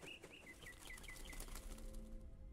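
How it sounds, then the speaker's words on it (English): Birds flapping their wings in the video game Gris, soft fluttering over a gentle ambient backdrop with a short series of light chirps and a faint sustained musical tone, no voices. "Oh, I love the birds."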